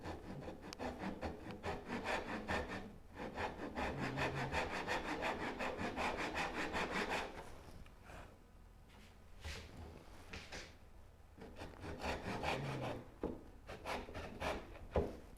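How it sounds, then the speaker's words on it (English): A chisel pares down wood on a Moxon vise in a workshop, with steady rhythmic scraping strokes close by, a short pause, then more rasping cuts. "we'll just pare that down with a chisel"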